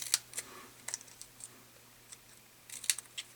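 Paper trimming on cardstock for a handmade greeting card, heard as a handful of crisp, light clicking snips and slides that cluster at the start and again near the end, close and fairly quiet.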